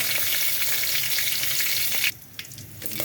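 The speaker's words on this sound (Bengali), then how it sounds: "তেল তেল গরম হয়ে পাঁচফোড়ন, দারচিনি, এলাচি, তেজপাতা" Five-spice, cinnamon, cardamom and bay leaf frying in hot oil, a loud dense crackling sizzle that cuts down sharply after two seconds to a quieter spitting.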